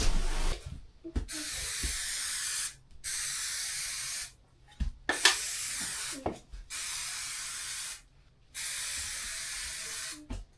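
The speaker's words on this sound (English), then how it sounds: "you're spraying it all over the floor" A spray nozzle hisses in repeated bursts of about a second or two each, separated by short pauses and a few light knocks, fairly close.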